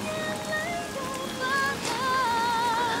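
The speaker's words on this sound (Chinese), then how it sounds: "不要愣在这淋雨了" Steady rain falls on a surface as a continuous hiss, with soft melodic tones playing over it.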